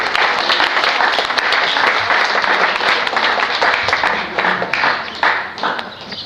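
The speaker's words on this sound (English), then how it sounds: "Ladies and gentlemen, have a nice round of applause for the gutsy gelding," Crowd applause and clapping greet the gelding Funny Side, a steady, loud wash of many hands sustained for several seconds, with a few sharper nearby claps toward the end.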